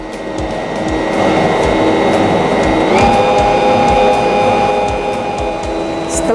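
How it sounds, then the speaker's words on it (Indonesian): An electric mixer whirs loudly and steadily while blending fish, water, egg and oil for pempek dough, its motor tone stepping up in pitch partway through as the speed increases, with a faint rhythmic thumping underneath and no talking. "Kita masukin ikan, air, telur, dan minyak ke dalam mixer."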